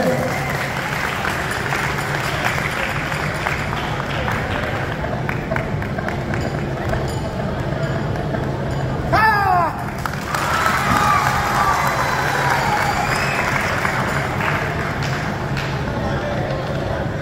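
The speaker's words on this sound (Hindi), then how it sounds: "अगर अच्छा लग रहा हो तो आप सब तालियां बजाते हैं।" An audience breaks into sustained applause with cheering and children shouting mixed in, a loud, continuous crowd roar of clapping and voices.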